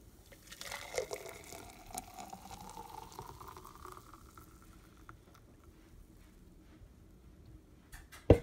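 Frothy keto coffee poured into a serving glass, a soft bubbling liquid trickle that fades over several seconds, quiet and close, ending in a brief louder clink.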